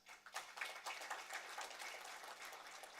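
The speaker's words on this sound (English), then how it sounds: "Another round of applause." An audience gives a round of applause at an East African convening on child domestic work, a steady wash of many hands clapping, fairly faint and distant, lasting the full few seconds.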